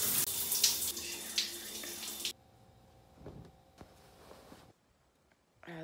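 Water from a shower streams loudly and steadily for a couple of seconds, then stops, leaving faint drips and small bathroom clatter before near silence.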